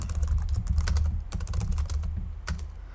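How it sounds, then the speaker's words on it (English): Rapid clicking of keys on a computer keyboard, close and steady, with brief pauses between bursts of typing. "Sorry if I'm typing sloppy."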